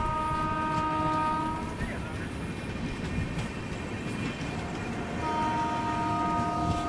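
The Malwa Express standing at an Indian station as its departure signal sounds, with sustained horn-like tones at the start and end over a continuous rumbling rail background, loud and near.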